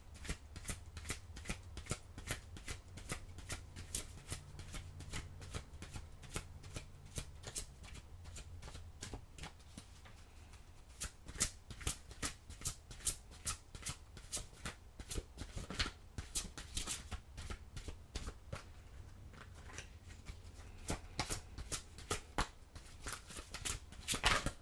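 Oracle cards shuffled steadily by hand for about 25 seconds, a continuous run of crisp riffling flicks and soft slaps close to the listener, with no talking over it.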